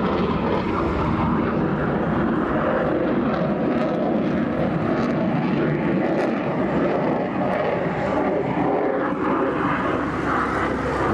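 Loud, continuous roar of a jet aircraft engine at an airshow, a dense broadband rush that holds steady for several seconds with no talk.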